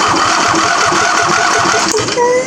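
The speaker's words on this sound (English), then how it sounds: "It is test drive the starter time." A starter motor cranks an engine on a test run after being bolted back in, giving a steady, loud, continuous mechanical whirring churn that holds for a couple of seconds with no pause.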